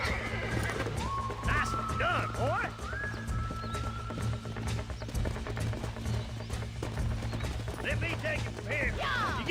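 A horse in the Red Dead Redemption video game whinnies several times over steady clip-clopping hooves and a low droning game background, with the neighs rising and falling clearly near the start and again at the end.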